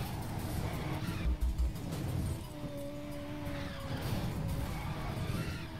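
Car drifting and skidding in the racing game Need for Speed Most Wanted (2012), an engine roaring continuously while tires squeal in a sustained whine, with no talking.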